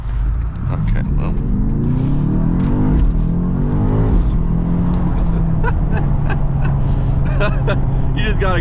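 A BMW XM Label Red engine revs hard while being driven through corners, a loud, steady roar with rising and falling pitch under continuous talking from the driver.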